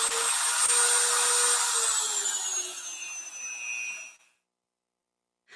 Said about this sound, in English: Next, a Dremel is used to cut a piece of wood.